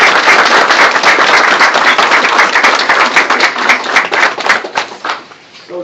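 Audience at a health center dedication ceremony giving a round of applause, close, loud hand clapping with crisp individual claps that thins out and fades over the final seconds.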